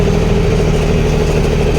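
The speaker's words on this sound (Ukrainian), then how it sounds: "мені подобається дойцевський мотор. Він пах-пах-пах і собі під горбок пішов" A tractor with a Deutz diesel engine labors up a hill while cultivating, its engine a loud, close, steady low chugging throb.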